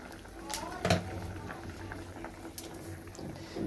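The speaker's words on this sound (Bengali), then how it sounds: "এখন ওর জন্য একটু আপেল সেদ্ধ বসিয়েছি" An apple simmers in a pot on a home stove, giving a low bubbling, watery churn that stays fairly faint and close, with a brief clatter early and a voice speaking at moments.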